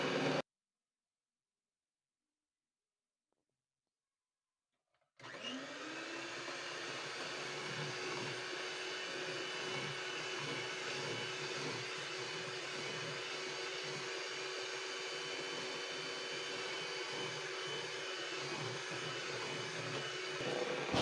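An electric mixer whirs steadily as it beats egg yolk and vanilla into fluffy egg whites and powdered sugar for a chocolate cake, starting after a silent pause and holding a constant close motor drone to the end.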